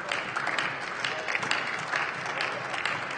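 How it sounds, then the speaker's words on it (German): Applause from Pirate Party members in a Luxembourg parliamentary chamber, a steady, moderately loud patter of clapping from a small group lasting throughout. "also nur Applaus von den Piraten"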